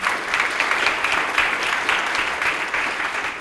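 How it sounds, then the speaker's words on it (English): Steady applause from a crowd, dense clapping sustained at an even level throughout without pause. "have us give them a round of applause as well"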